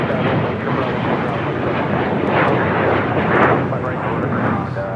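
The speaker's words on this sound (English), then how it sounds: "This is a Cessna Citation Longitude taking off to Toluca, Thrive Flight 725." A Cessna Citation Longitude business jet taking off at LAX, a loud, rumbling engine roar that surges slightly toward the end, with a voice talking over it.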